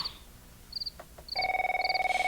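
A telephone rings in short electronic trills, a few spaced bursts, then a louder steady ringing pattern takes over near the end.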